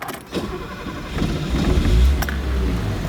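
A classic Mercedes-Benz 280SL with mechanical fuel injection starts hot: a short cranking whine, then the engine catches into a low, steady idle with a slight rev, close and loud.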